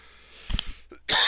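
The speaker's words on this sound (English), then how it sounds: "Sorry, I am coughing." A single harsh, explosive cough from a person with acid reflux, preceded by a few short throat-clearing bursts, loud and close.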